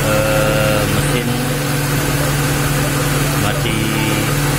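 A car engine idles steadily at close range while its radiator cooling fan spins, making a continuous loud hum with a droning low tone under a speaking voice.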